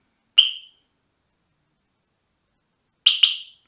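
Cheap bicycle alarm giving short electronic chirps: one brief beep, a long pause, then two quick beeps in close succession, sharp and clean against silence.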